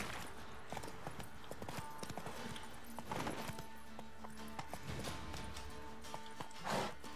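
Horse hooves clip-clop in the video game The Witcher 3, with irregular close hoof strikes on ground over a low ambient background and a brief louder burst near the end.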